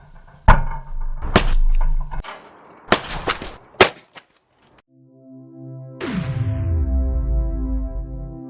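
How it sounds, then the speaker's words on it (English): A 91 lb hammer smashes down onto a bicycle helmet: several sharp, loud cracking impacts in quick succession, a brief near-silence, then a long ringing metallic resonance that slowly fades. "Although the bike helmet has absorbed quite a bit of the impact"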